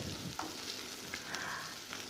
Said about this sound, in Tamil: இப்போது வெங்காயம் நல்லா வதங்கணுங்க.